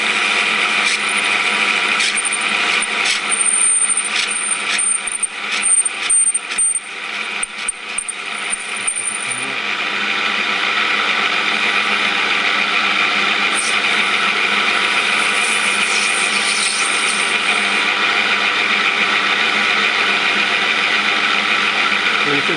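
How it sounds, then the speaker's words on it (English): A metal lathe turns a spinning top and cuts its angled point in small passes. It makes a steady, loud mechanical whine with rattly cutting noise through the first half, then settles into a smooth continuous hum. "on the lathe goes, and we're going to start machining off just a small amount at a time"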